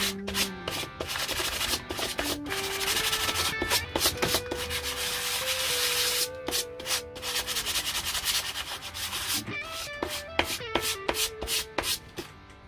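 Sandpaper rubs a bevelled edge on a droid build part, first as a run of steady scratchy strokes and then as quicker short rasps, close and moderately loud with no talk.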